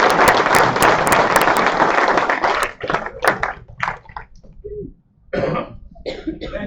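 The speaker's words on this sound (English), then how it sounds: "please give Terry Maas a big round of applause." Audience at a freshwater spearfishing championship awards ceremony applauds Terry Maas: dense, loud clapping for about two and a half seconds, then thinning into scattered claps, coughs and rustling before a short final burst.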